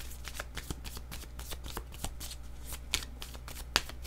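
Tarot cards shuffled by hand during a reading, a steady run of soft riffling flicks with two sharper snaps near the end, fairly close and alone over a low steady hum.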